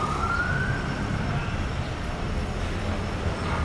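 An ambulance siren passes along a street in Macau, its wail clearest at the start and then fading into a dense roar of traffic and city noise.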